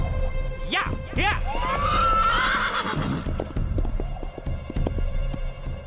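A cartoon horse, a small pony, gives a loud, rising whinny and then gallops with steady clip-clopping hooves over a low humming background.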